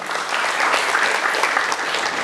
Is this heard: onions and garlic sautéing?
no